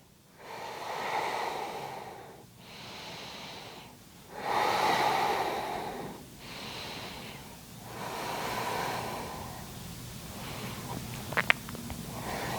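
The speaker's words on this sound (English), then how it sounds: "So inhaling as the legs come center and exhaling as they drop." Slow, deep breathing during lying-down yoga, long audible inhales and exhales alternating in an even rhythm, close and fairly loud, with a faint rustle near the end.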